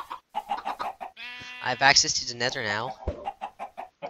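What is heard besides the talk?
chickens clucking in the video game Minecraft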